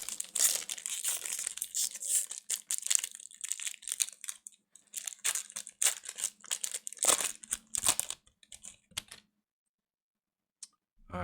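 Close crinkling and crackling of a Magic: The Gathering Innistrad: Crimson Vow collector booster pack wrapper being torn open and handled, busy for about eight seconds before fading to near silence with a couple of faint rustles.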